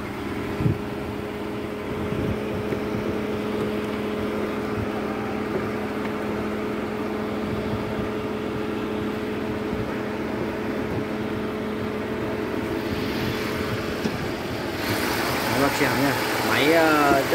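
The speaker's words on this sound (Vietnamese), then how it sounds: "giờ em mời các bác xem máy, nghe phần máy" A 1998 BMW 323 car engine idling steadily with a smooth, even hum and low whine, recorded near the engine bay, with some handling noise near the end.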